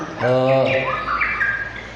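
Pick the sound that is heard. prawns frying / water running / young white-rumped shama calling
young white-rumped shama calling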